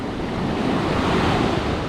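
Ocean surf rolls in at Yeongdeok Beach in South Korea, a steady, close broadband wash of waves mixed with gusty wind noise on the microphone.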